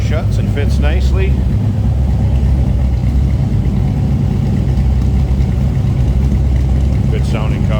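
A 1940 Chevrolet Special Deluxe Coupe engine idles close by with a steady, even low rumble throughout, while voices briefly talk over the start and the end.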